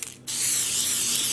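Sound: spraying Wilton Color Mist metallic food spray onto yarn

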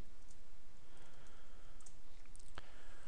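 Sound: typing a command on a computer keyboard

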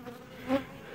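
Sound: honeybees buzzing around a hive

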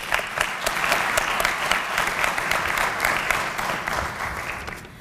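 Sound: audience applause

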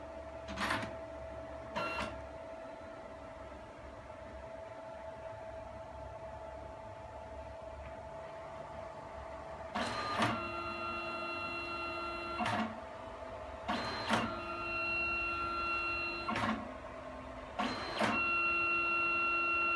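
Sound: Mitsubishi Smart Kiosk photo printer printing

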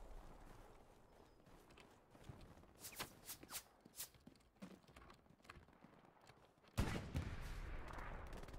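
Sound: gunfire in a video game

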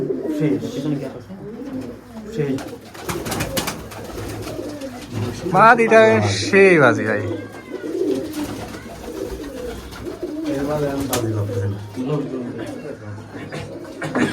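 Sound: giribaj pigeons cooing

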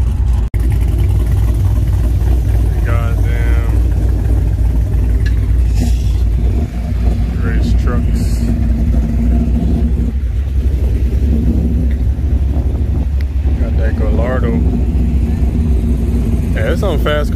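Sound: fast street cars driving and revving at a car takeover

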